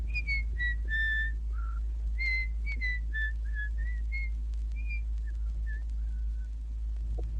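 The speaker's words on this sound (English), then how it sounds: "marched off light-heartedly, whistling a merry tune." A person whistles a cheerful, bouncing melody of short and held notes, clear and close, over a steady low hum.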